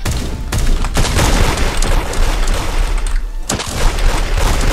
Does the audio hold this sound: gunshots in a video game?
yes